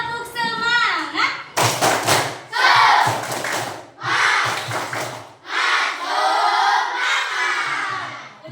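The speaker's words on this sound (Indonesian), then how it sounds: "Kita tepuk semangat dulu." A classroom of schoolchildren performs a 'tepuk semangat' spirit chant, loud bursts of rhythmic clapping and shouted kid voices in several phrases, led by a teacher's voice at the start.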